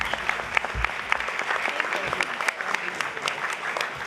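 A crowd at a community college student awards ceremony claps in sustained, even applause, dense with overlapping hand claps at moderate distance.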